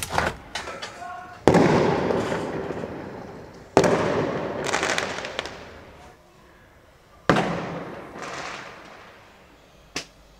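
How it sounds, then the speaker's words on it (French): Fireworks go off outside at 17:15 during an apartment cleaning, heard as a few sharp, loud bangs spaced several seconds apart, each followed by crackling decay, with a final quick pop at the end. "Il y a le feu d'artifice."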